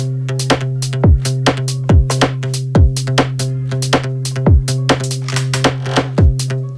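A steady electronic drum pattern programmed in Ableton Live 5, with punchy kicks and crisp hits repeating in a regular groove over a sustained bass tone, loud and close.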